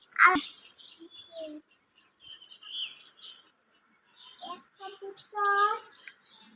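Several pigeons and parrots chirp and call in short bursts amid quiet, with a few clearer tonal calls near the end; no voices stand out.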